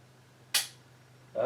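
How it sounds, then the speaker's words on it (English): A single gunshot cracks at a small target during an open-sight torture test, a sharp broadband report that decays quickly, followed near the end by the onset of another louder sound, with a steady low hum underneath. "let's watch and see where the hits go, and let's take some shots"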